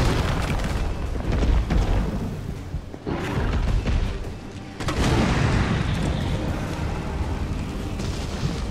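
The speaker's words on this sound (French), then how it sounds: "là on est sur de la grenade incendiaire" Incendiary grenade going off in Resident Evil 3, a loud sustained boom and roaring burn that fills the scene, with a brief dip before a second swell of fiery rumble.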